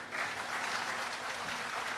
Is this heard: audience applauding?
yes